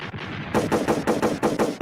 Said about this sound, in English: Let me get some gunshots for them blood clots.